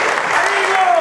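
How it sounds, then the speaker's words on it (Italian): Applause for Fabrizio at a dance club's Christmas party in Pavia, a short steady patch of clapping with a voice faintly present over it. "un applauso a Fabrizio"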